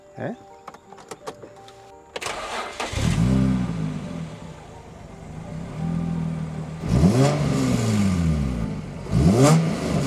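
A Nissan Skyline G35 coupe with a 3.5 liter V6 and an Akrapovic exhaust starts up, then idles with a steady low rumble and revs up sharply twice near the end. A brief mechanical whir comes first.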